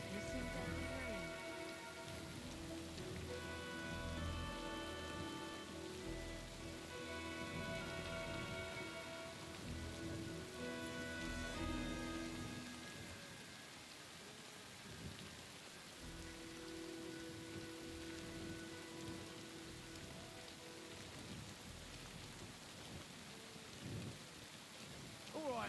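Steady rain patters on surfaces during a thunderstorm in the video game Kingdom Come: Deliverance 2, with low thunder rumbling underneath and music-like tonal layers over the top, continuous and moderately quiet throughout.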